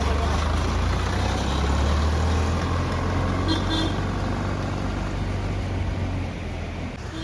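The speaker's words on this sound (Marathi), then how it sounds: "चला टेम्पो निघाला आपला" A small goods tempo truck pulls away near Alibag farmland, its engine a steady low rumble that holds close and loud before easing slightly toward the end, with no voices over it.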